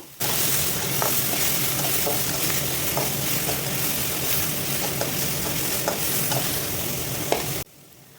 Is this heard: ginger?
yes